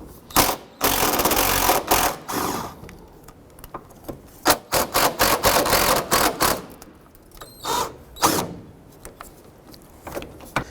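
A socket wrench works 10mm and 12mm bolts out of a stamped steel heat shield on a 2006-2012 Honda Civic, giving bursts of rapid ratcheting clicks and metallic scrapes between short pauses.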